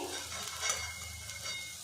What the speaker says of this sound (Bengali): তো দেখুন আমি হালকা করে এটা ভেজে নিয়েছি।